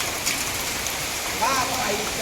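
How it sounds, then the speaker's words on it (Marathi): Dense, steady hiss of heavy rain pouring down close by, with a faint voice briefly audible underneath. "पाऊस खूप चालू आहे"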